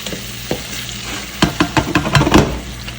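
Onion and bell pepper tossed in a hot pan, sizzling softly with a quiet start, then a burst of stirring clatter and crackling frying over the last half.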